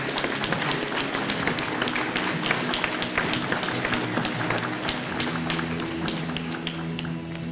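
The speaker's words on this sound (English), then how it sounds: "A round of applause, please." Sustained applause from an assembled crowd at a Singapore Exchange gong-striking ceremony, dense and steady throughout with a few sharper claps standing out, no talk over it.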